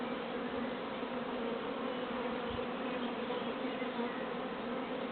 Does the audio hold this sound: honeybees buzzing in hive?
yes